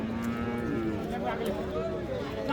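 A Friesian cow and her calf moo in a busy cattle market, the low drawn-out lowing continuous and close, with crowd chatter and voices around.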